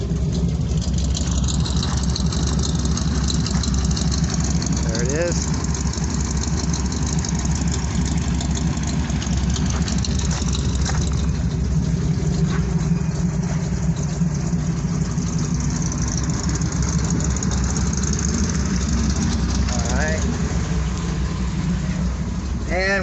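A 1958 Chevrolet Apache pickup with side exhaust exiting just ahead of the wheels idles steadily and loudly at close range, a continuous low rumble throughout, with someone speaking briefly over it.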